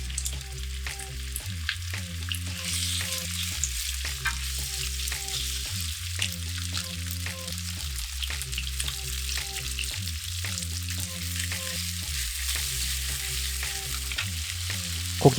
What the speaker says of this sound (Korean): 올리브유가 충분히 달궈지면 소고기를 넣고 겉면이 모두 익을 때까지 잘 구워요.